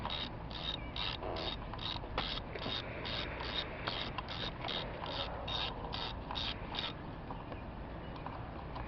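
A ratchet wrench works loose a solenoid bolt on the aluminum engine block of a 2009 Chevrolet Malibu, giving a steady run of close, rapid clicking strokes that slows and then stops.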